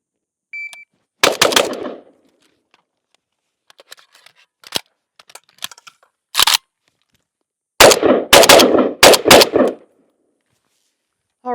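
A JRA Galil ARM rifle fires in quick pairs, two rounds per target, sharp loud cracks in separated bursts with quiet pauses and small clicks between strings.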